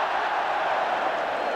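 Large football crowd at a 1983/84 Sheffield Wednesday versus Charlton Athletic match reacting to a missed finish, a steady broad roar and murmur of many voices across the stand, continuous and fairly loud without a distinct cheer peak.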